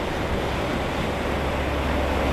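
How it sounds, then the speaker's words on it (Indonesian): Strong wind buffets a rider on a Yamaha Mio Gear 125 scooter on a cloudy morning, a loud, unbroken roar of rushing air close against the microphone. "terpaan angin dari kanan kiri itu lumayan kencang ya"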